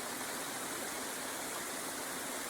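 Waterfall at a river campsite on the Etowah River, a steady broadband rushing roar of falling water, constant and even with no voices.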